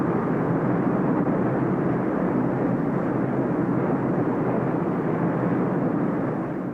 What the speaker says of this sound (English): multi-engine jet, such as this United States Air Force KC-10 tanker